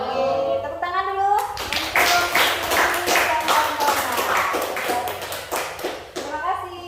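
Students clap together in a classroom after a presentation, a fast, dense burst of close hand claps lasting several seconds, with a voice briefly audible at the start and end.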